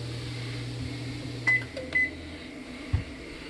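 A convection oven inside a 2018 Flair 31W motorhome runs with a steady low electrical hum, broken midway by a few short high beeps and a brief clunk, close and moderately quiet.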